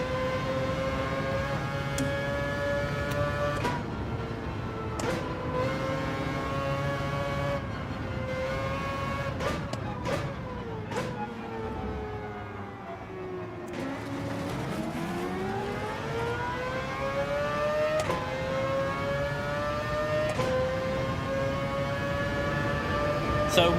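A Porsche race car engine in Gran Turismo 7 drones at steady high revs with rising and falling pitch through gear changes, a continuous loud whine held throughout with a brief dip mid-run.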